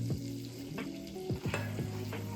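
Butter and sugar being stirred together in a pan for rum caramel sauce, with a soft sizzle and a few scraping spoon strokes close by, no talking.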